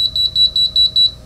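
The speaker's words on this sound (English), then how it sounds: "Six beeps is what will happen." Six short, high electronic beeps from an Alarm Lock DL2700 keypad lock in an even, quick rhythm, clear and close, followed by a brief fade.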